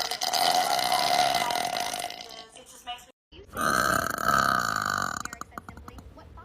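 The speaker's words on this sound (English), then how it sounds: "I got a burp though." Two loud, long, rumbling burps come from a person at close range, separated by a brief silence, with a few words spoken around them.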